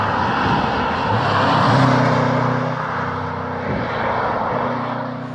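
A Subaru Impreza STI with a burbling flat-four engine and unequal-length headers accelerates loudly along a winding Welsh road, its droning engine note rising then easing, close and continuous with no voices.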